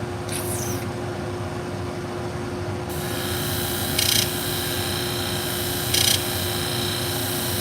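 Salon shears being sharpened on an abrasive, a continuous grinding hiss over a steady motor hum, with two short brighter scraping bursts as the blade touches harder.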